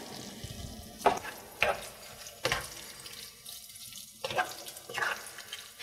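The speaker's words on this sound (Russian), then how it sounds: "А теперь мы все это вместе перемешиваем." Sliced mushrooms and fried carrots are stirred together in a pot of oil, with several short scraping and sizzling strokes at an uneven rhythm. The sound is close and fairly quiet, and no one talks.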